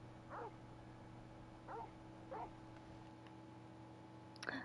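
Three short, faint puppy whimpers or yips from a video game, spaced apart over a steady low background hum, with a small click at the end.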